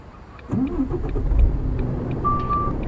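An automatic truck's engine cranks and catches, then settles into a steady low idle rumble, close and fairly loud.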